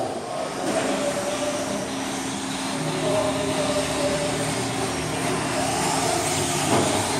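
Racing trucks roar around a short raceway, a continuous loud engine drone with steady droning tones, heard from trackside with a slight swell as they pass.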